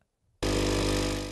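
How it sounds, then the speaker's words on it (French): The pump of a Bugatti Diva espresso machine fills the internal boiler with water. It kicks in suddenly as a loud, steady mechanical buzz and hum, then begins to fade slightly toward the end. "C'est le bruit de la pompe qui remplit d'eau la chaudière interne."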